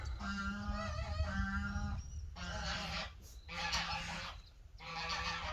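Geese honking loudly and close by in repeated bursts of harsh, nasal calls separated by short pauses, several birds overlapping.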